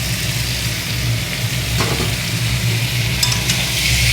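Green jackfruit pieces land in a hot pan with potatoes, onion, garlic, tomato and ginger, producing a loud, continuous sizzle over a low steady hum with faint clinks near the end.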